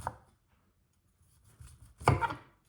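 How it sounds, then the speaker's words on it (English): A knife cutting broccoli into florets on a board, a couple of soft crisp chops with a louder cluster near the end, close and quiet with no talking. "I had some broccoli, which I chopped into florets, and did the same with cauliflower."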